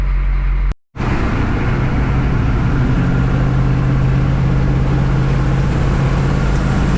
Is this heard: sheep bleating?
no